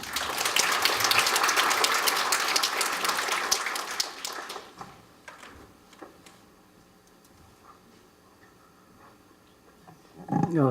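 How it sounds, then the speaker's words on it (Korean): Audience applause at a Korean records-management staff workshop welcomes a task force chair to the podium, loud and sustained at first, fading to quiet room noise, then a brief burst returns at the end. "박수로 맞이해주십시오"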